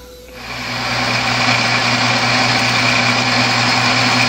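A metal lathe takes a slightly heavier cut of about ten thou, its motor and spindle whine starting up and settling into a steady, loud, close drone with a faint cutting hiss and no talk.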